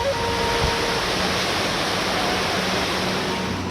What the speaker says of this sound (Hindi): गंगा का शोर अब दूर से ही सुनाई देता है